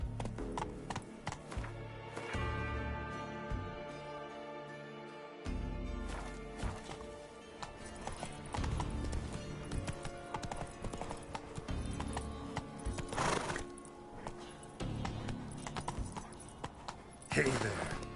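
Roach the horse galloping in The Witcher 3, steady clip-clop hoofbeats with a whinny, set against game music and effects, with a voice speaking over it.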